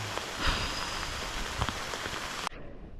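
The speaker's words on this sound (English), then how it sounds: "we got stuck in a torrential downpour" Torrential rain drumming hard on a camp tarp during a canoe trip, a dense close patter with a few heavier drops, cutting off abruptly near the end.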